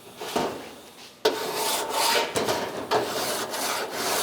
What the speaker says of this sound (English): we finished hand filing our front edge